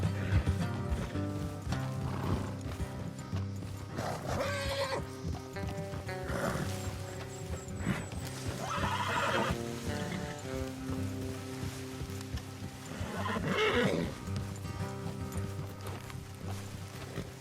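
Horses moving along with hoof clatter and occasional snorts or whinnies in Red Dead Redemption 2, set against a continuous bed of music and ambient noise.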